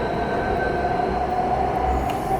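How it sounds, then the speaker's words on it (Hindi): A Delhi Metro train rolling steadily past, a continuous loud rumble with a faint high whine, close and unbroken, with no voices. "और this is my metro by the way"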